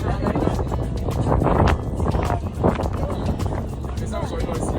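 Boat ride out toward an island in strong wind, with heavy blustery gusts buffeting the microphone over an engine and water rumble while people talk throughout.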